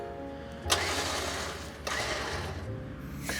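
Warn VR EVO winch on a Toyota FJ Cruiser Trail Teams bumper, run by wireless remote: a steady loud mechanical whir of the motor, cutting out and restarting a couple of times in short bursts, close by with no talking.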